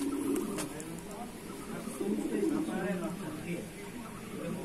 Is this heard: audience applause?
no